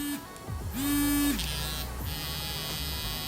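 A Colgate hum smart electric toothbrush switched on and buzzing: a steady, close, tonal electric hum that starts, steps between modes with short shifts in pitch, and keeps running without talk.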